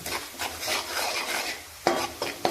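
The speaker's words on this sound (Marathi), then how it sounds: "आता हे मसाले चांगले परतून घ्या" Chilli powder, goda masala, turmeric and salt sautéed in a pan, heard as a soft continuous frying hiss with repeated scraping strokes of a spoon and a few sharper scrapes near the end.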